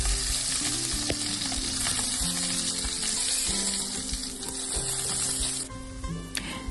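Meat sizzles loudly in hot oil, browning on both sides, with a dense steady crackle and spatter that runs throughout and eases slightly near the end.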